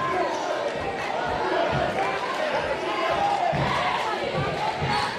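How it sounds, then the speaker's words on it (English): Rowdy crowd at a high school varsity boys basketball game between Clifton and East Orange, with a dense, steady roar of cheering and chatter from both sides of the gym, plus ball bounces mixed in. "Got a rowdy crowd from both sides."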